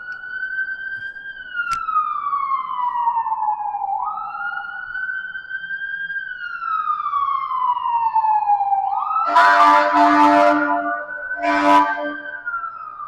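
A fire truck siren passes close by downtown near a fire station, with a steady wailing rise and fall that is loud and sustained. A horn blasts twice near the end.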